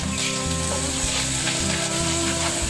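Steamed clams stir-fried in a wok with Pixian bean paste, onion, oyster sauce and scallion: a steady, close sizzle with light scraping and tossing throughout, with no talk.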